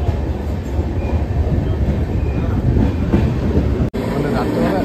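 A passenger train running from Kolkata to Cooch Behar rumbles steadily from inside the carriage, a loud continuous low roar with faint rhythmic wheel clatter and a brief dropout near the end.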